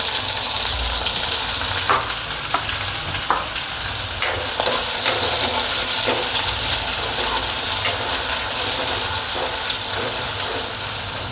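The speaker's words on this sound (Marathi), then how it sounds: "तेल गरम झालं आहे, कांदा टाकून घेते।" Chopped onion hits hot oil in a pan for Maharashtrian dried-shrimp chutney, giving a steady, loud sizzle that runs throughout, with scattered scrapes and taps of a stirring spoon.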